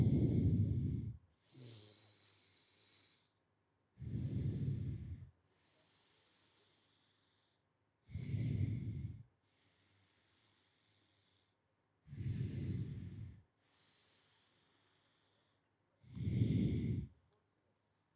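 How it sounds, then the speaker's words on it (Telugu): Slow alternate-nostril breathing in a morning pranayama session, six loud, close inhalations arriving about every four seconds in a steady rhythm, each followed by a softer, longer exhalation through the nose, with no talking. "రైట్ నుంచి శ్వాస తీద్దాం, లెఫ్ట్ ద్వారా శ్వాసను వదులుదాం"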